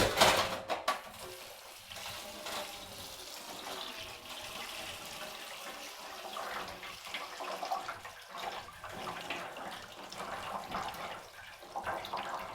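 Running tap water pours steadily over a whole pineapple being washed in a kitchen sink, a continuous splashing wash with no talk, moderately close.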